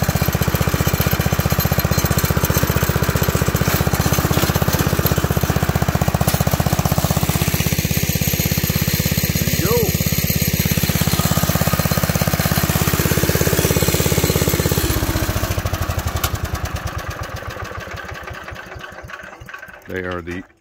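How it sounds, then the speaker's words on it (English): A 1980 Locke model 70 triplex reel mower, running for the first time in 22 years, with a loud steady engine drone and a rattling reel, the pitch shifting partway through before fading. "That's a Locke mower right there."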